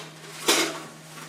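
A metal camping cook kit, a Sierra cup nested with a small measuring cup, gives one short clinking clatter as it is packed away, close and brief against a quiet background.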